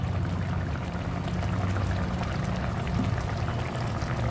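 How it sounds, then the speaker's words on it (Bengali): Mustard oil poured into a prawn malai curry gives a soft continuous pouring and trickling wash, close and steady over a low background hum, with no voices. "এর মধ্যে দেবো হালকা করে একটু সর্ষের তেল"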